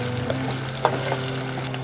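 Ginger, garlic and chili paste fries with onions and curry leaves in a pan, giving a steady close sizzle with a few soft stirring clinks.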